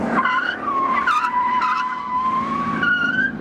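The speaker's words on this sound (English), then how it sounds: "I knew we'd do skid car today." A skid car's tires squeal continuously on a race school track at Ford's one-day driving course, a loud, steady high-pitched howl that wavers and swells several times over its full length, with engine noise underneath.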